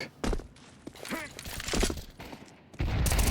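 Desert Eagle pistol shots in Counter-Strike 2 during a pro esports match, a handful of sharp, loud cracks spread across the moment, with mixed game noise and caster commentary running underneath.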